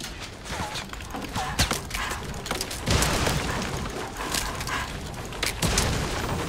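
Gunfire in a Fortnite Battle Royale match: a dense barrage of sharp shots and booming blasts, some near and some distant, sounds continuously throughout, loud and busy.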